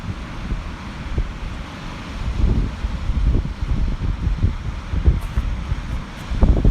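Strong wind buffets a DJI Mavic Pro drone in flight, heard as a steady low rumbling roar with gusty surges and thumps, continuous throughout and fairly close, with no talking.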